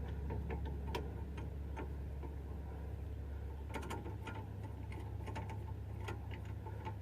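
A hand tool ratchets a rear brake caliper piston back on a Subaru Outback, giving faint irregular clicks over a low steady background hum.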